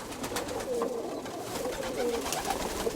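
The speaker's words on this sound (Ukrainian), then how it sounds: "Ось такий молоденький, він ще молоденький зовсім, пищаче." A young pigeon gives thin, high squeaking peeps in short repeated bursts, close by over a faint background hum, with no talking.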